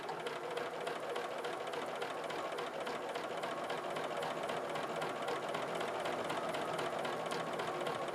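A quilting machine stitches clamshell patterns into a quilt with a fast, steady mechanical chatter at close range, and no voices are heard.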